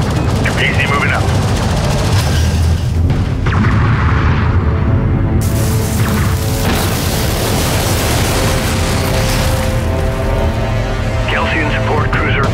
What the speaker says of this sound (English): Galsian support cruiser destroyed